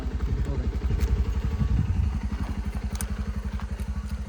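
A small off-road motorcycle engine runs close by with a steady, rhythmic putter, revving slightly near the start and then settling into an even idle.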